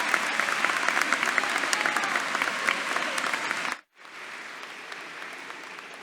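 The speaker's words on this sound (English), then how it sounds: "now you guys can clap." Sustained applause from a high school graduation audience, a dense loud crowd clapping for several seconds, then a brief cut before quieter clapping continues.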